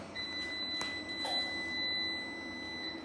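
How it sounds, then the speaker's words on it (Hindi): High-pitched electronic beeping from a UPS as it restarts, a thin sustained tone with a few clicks and soft knocks nearby. "ये वैसे बीप की आवाज़ है क्योंकि वो सारी सेटिंग हो रही है ना"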